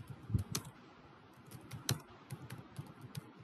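Keys clatter on a computer keyboard while text is entered in an editor, quiet close taps in uneven bursts with a couple of sharper strikes and no voices.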